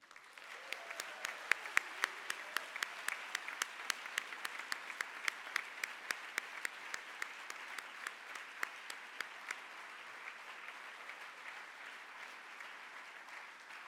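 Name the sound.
audience applause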